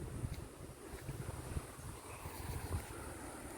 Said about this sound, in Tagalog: Hapon na. Malakas yung hangin.